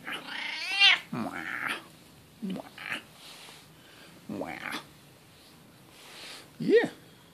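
A domestic cat meows several times in short, rising calls, close up and clearly audible, with a person talking softly between and around the meows.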